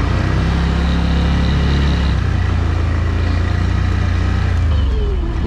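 A car driven by a learner driver who presses hard on the accelerator produces a loud, close engine drone that holds steady throughout, with a low humming pitch and no talk.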